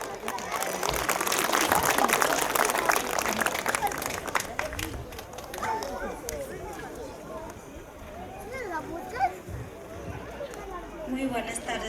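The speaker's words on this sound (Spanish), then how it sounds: "vamos a recepcionar con ese fuerte voto de aplausos" Applause from a crowd at a family house celebration welcoming the godmother, dense clapping loudest in the first seconds, then fading into crowd chatter with a few scattered claps and voices.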